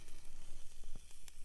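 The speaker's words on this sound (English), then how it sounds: "Listen to the sizzle." A cheap rare steak, just flipped, sizzles loudly in a pan with a dense, crackling hiss and popping fat, close and unbroken.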